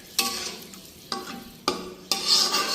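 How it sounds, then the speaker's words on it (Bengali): Water goes into a hot pan of sizzling curry with egg, potato, pointed gourd and lentil wadi, making four sharp hissing bursts that each fade a little before the next, with no voices. "এবার আমি ঝোলের পানি দিয়ে দিচ্ছি।"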